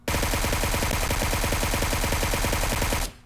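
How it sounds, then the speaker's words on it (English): Suppressed QBZ assault rifle in PUBG Mobile firing one loud, continuous full-auto burst of rapid, evenly spaced shots, ending abruptly after about three seconds. "substantial difference in recoil so far with the suppressed AR here."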